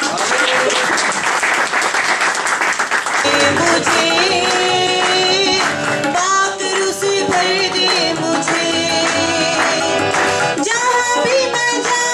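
Loud, sustained applause from a large crowd fills the space, dense clapping layered with music throughout, close and continuous for the whole stretch.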